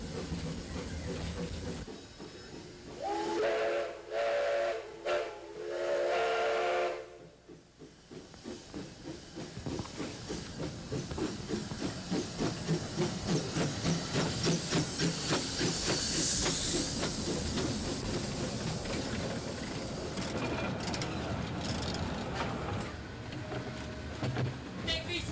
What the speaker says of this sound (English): Mighty steam engine number 41 was built in 1881.